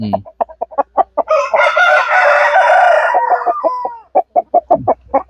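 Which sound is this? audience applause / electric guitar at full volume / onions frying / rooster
rooster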